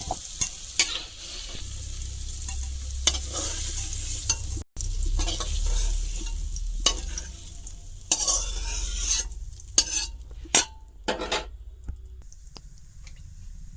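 Potatoes frying in a pan while a spatula scrapes and stirs them at intervals, with irregular knocks and scrapes over a softer sizzle, close and uneven, with brief quiet gaps.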